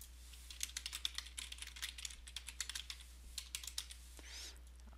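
Quick irregular clicks of typing on a computer keyboard, close and crisp but fairly quiet, in short bursts over a low steady hum with no talking.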